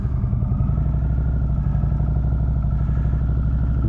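A motorcycle rolls slowly through a cone weave drill, its engine a steady low rumble with rapid regular firing pulses and some mechanical clatter, close and constant throughout, with no voices.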